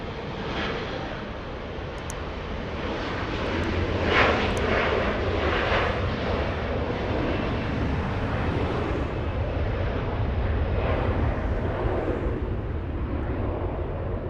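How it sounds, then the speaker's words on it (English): SkyWest Embraer E175 regional jet departing LAX, a continuous loud engine roar that builds and holds steady throughout, alone without talk. "little SkyWest D175 getting a move on"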